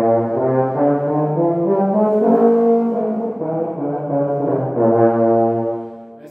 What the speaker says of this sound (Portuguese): E esse é o som do bombardino.